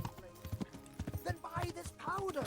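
A horse is ridden in Kingdom Come Deliverance, and its hooves clip-clop in a steady gait at moderate distance. Someone talks over the hoofbeats the whole time.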